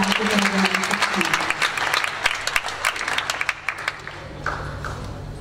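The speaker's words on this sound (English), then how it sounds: "Please give round of applause for the performance of Metabolism Class 2016." Auditorium audience at a Universitas Indonesia public lecture applauding a Metabolism Class 2016 performance, dense clapping that thins into scattered claps and fades near the end.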